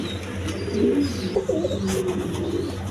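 Giribaz pigeons coo in low, rolling murmurs, several birds overlapping steadily close by against a busy background hum.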